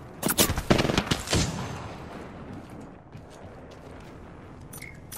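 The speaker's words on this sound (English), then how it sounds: "Getting shot at." Gunfire hits the player in a video game as a loud, rapid burst of shots and impacts in the first second or so, then fades into quieter rumbling background noise.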